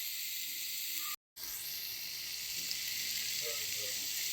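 Bitter gourd frying in a pan gives a steady, close sizzling hiss that runs almost without a break, dropping out for a moment before resuming.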